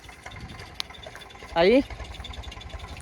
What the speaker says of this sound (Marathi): चला ट्रॅक्टर लागणार आहे आता.